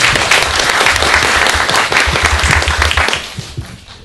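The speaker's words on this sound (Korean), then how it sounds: "큰 박수 좀 부탁드립니다" A crowd applauds loudly and steadily at a 2011 AR design forum panel discussion, the clapping tapering off toward the end.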